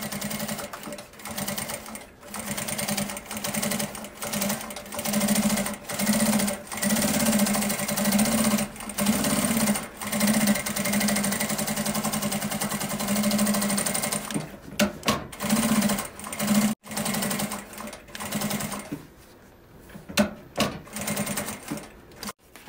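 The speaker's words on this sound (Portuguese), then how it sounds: "a gente faz uma costurinha de segurança para refilar a sobrinha do forro" A sewing machine stitching a safety seam along a fabric lining for a small car trash bag, a rapid mechanical chatter in repeated bursts with short pauses, close and steady, no talking.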